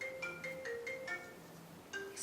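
A phone rings faintly in the background while sugar paint Christmas baubles are being made, a short repeating electronic melody of several quick tones, quiet and distant.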